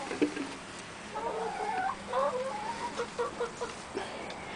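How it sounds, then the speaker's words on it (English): Production egg-laying hens cluck in their nest boxes while eggs are gathered, a steady close chorus of soft overlapping clucks and murmurs. "These are production egg chickens."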